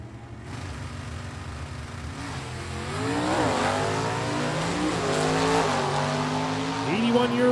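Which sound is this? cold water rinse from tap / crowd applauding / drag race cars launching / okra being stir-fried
drag race cars launching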